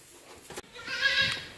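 A goat bleats in a farm pen where minerals are put out for sheep and goats, giving a clear, close, wavering cry in the second half after some shuffling and a soft thump.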